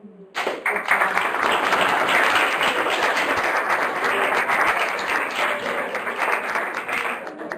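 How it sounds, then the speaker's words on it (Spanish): A class of students bursts into applause after being congratulated, a dense, steady wash of many hands clapping that starts abruptly and holds loud for several seconds, with a few voices mixed into the noise. "quiero que se den un aplauso que lo merecen"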